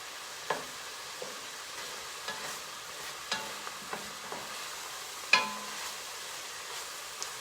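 Beef goulash with tomatoes and peppers simmering and reducing in a pan, a steady low sizzle broken by occasional scraping stirs and utensil clinks, with no talking.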